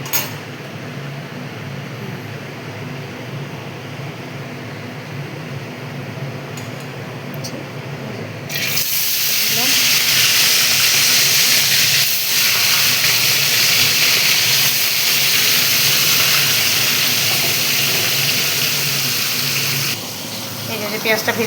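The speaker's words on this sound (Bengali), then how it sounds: "তেল গরম হয়ে গেছে, এবার আমি মাছটা ছেড়ে দেবো, মাছটা ভেজে নেব।" Fish dropped into hot oil sets off a sudden loud, broad hissing sizzle that holds steady for several seconds before easing, following a quieter stretch of low pan noise.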